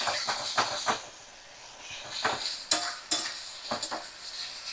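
Spices and chopped green chillies stir-fried in a pan, a spoon scraping and clinking against the metal in irregular bursts over a soft background hiss, close and moderately quiet.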